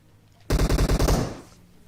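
A short automatic burst of gunfire in a video game, about seven rapid, evenly spaced shots, loud and close, followed by a brief fading tail.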